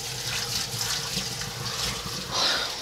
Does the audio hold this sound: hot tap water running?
yes